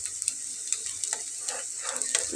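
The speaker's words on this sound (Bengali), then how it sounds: "খুবই সামান্য সামান্য তেল দিয়ে ভেজে নিচ্ছি।" Vegetable and beef cutlets fry in a shallow film of oil, giving a steady close sizzle with soft crackling pops and a few faint scrapes throughout, no talking.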